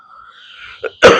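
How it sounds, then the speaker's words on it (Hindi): A single loud, close cough bursts out abruptly after a brief, faint breathy sound. "भाई खांसी उठ जाता है पता नहीं।"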